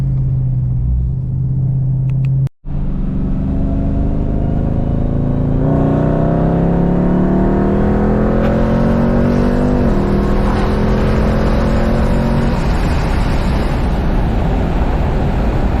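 A Dodge Hellcat with a transmission bypass accelerates hard from 60 to 120 mph from inside the car: a loud engine drone rises steadily in pitch through several gear changes after a brief cut, with wind and road rumble throughout.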